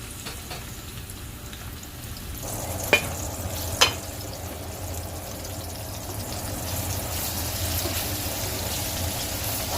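Chopped onion frying in groundnut oil in a pot, a steady close sizzle with faint crackle throughout and a couple of sharp knocks from a utensil against the pot early on.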